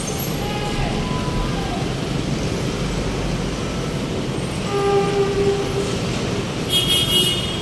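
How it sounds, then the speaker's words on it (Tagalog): A PNR train approaches along España Boulevard in a busy street scene, a steady low rumble filling the background with brief horn toots near the middle and end, fairly loud and ongoing. "May parating na train."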